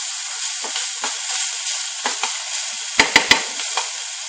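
Sweet potatoes and garlic sizzle steadily in a hot pan, a constant bright frying hiss broken by a few scraping taps and clicks of a utensil stirring, close and with no talk.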